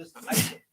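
A single sharp sneeze, close and loud, rising quickly and cutting off in under a second.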